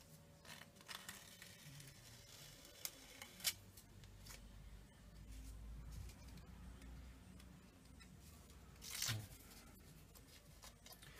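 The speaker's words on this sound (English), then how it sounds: "So all I do is just run around the inside with a bit of emery paper." Emery paper rubs around the inside of a metal horn bracket to deburr it, giving faint scratchy strokes over a low steady hum, with a few brief louder rasps and clicks.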